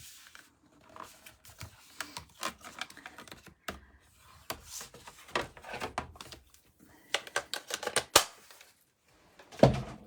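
Cardstock being scored at 15 centimetres on a scoreboard for a 15 by 15 card: a quick series of sharp, close clicks and taps with short scraping strokes, irregular in rhythm, with pauses in between.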